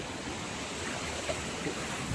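Water flowing down a small village waterfall, a steady soft rushing wash heard alone at low level without breaks.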